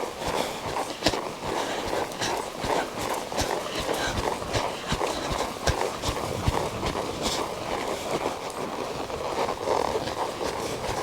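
A cutting horse's hooves trot across an arena at a cattle company, a steady run of dull thuds close by amid outdoor ambience, with no talking.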